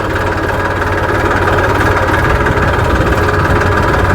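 A tractor engine runs steadily during GPS-guided sowing in a field, a loud, close, continuous diesel rumble with a knocking vibration and no pause, and no voices over it.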